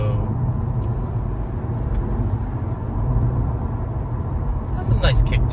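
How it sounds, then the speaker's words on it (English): A 2024 Honda Civic Hatchback EX-L in sport mode accelerates with a steady, loud engine drone and road rumble heard from inside the cabin, and the note lifts toward the end. "I just threw this on sport mode, and I already noticed that the RPMs are a bit higher, and the throttle response is a lot quicker."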